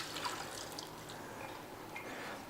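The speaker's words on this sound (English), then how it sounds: "So I'm gonna strain off the water from these almonds." Soaking water strained off almonds, heard as a steady close trickle of pouring and dripping liquid that runs without a break under a soft hiss.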